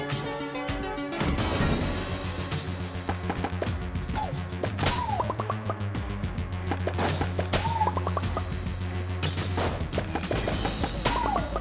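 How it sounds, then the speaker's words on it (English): Enter the Gungeon combat with a big explosion and bursts of gunfire: dense, loud crashes and rapid shots crowd the whole stretch, mixed with chirping effects and a low game-music drone, with no voices. "Holy shit, that was a big explosion."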